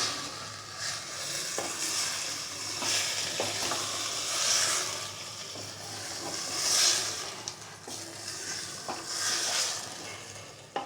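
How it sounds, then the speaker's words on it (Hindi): Green onions are stirred into potatoes frying in a pan, a steady sizzle under repeated scraping strokes of a spoon, close and continuous. "इसे भी ऐड कर देंगे और इसे अच्छे से मिक्स कर देंगे"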